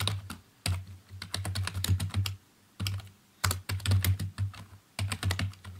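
Rapid keystrokes on a computer keyboard while coding a Python dictionary example, coming in close, crisp bursts separated by short pauses, with a steady low hum underneath.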